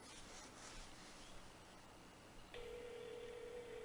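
In a video game, a telephone gives off soft dialing tones that lead into a steady connecting tone. The sound is faint, with low background hiss and no talk.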